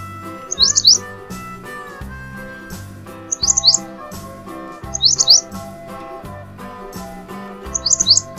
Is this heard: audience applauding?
no